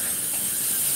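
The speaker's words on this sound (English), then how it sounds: "Put on the, turn on the blender, Angela." A kitchen blender whirs on in a steady, loud hissing roar for about a second, making chickpea guacamole.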